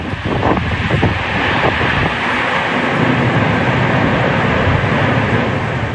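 Strong storm wind from a cyclone roars loudly and steadily as broadband rushing noise buffets the microphone, with some low rumbling bursts early on.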